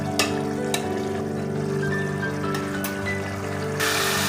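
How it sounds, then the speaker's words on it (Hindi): Chicken with tomato masala frying in a pan, a steady close sizzle and bubbling hiss running throughout, with a few faint clicks and a brief louder burst near the end. "अब मैं इसको भून लूँगी।"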